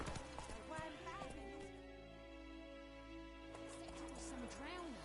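Roach, the horse in The Witcher 3, gallops with rhythmic clip-clop hoofbeats and a brief whinny, set under game music and character dialogue.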